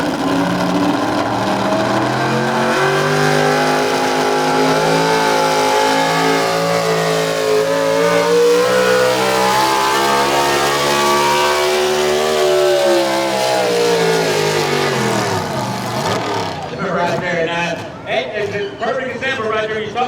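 A heavily modified pulling truck roars at full throttle during a truck and tractor pull at the Hardin County Fair, its engine note climbing and sweeping in pitch across a long, loud run before dropping away near the end, with an announcer talking over it.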